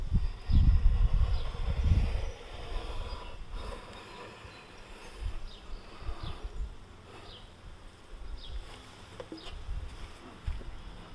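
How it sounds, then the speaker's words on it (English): Bees buzz around an open hive close by, a faint continuous drone with individual insects whizzing past now and then, plus some low thumps and handling noise. "Look at all them bees."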